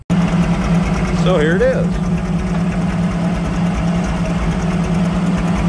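An Allis Chalmers WD-45 tractor engine running loud and close with a steady, uneven chug from a missing valve, while someone speaks briefly near the start.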